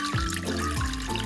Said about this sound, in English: Add in some water.